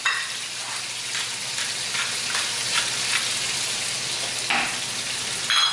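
Tomatoes sizzle and fry in a pan with golden-brown garlic for pasta e fagioli, a loud continuous crackle close by with occasional stirring bursts.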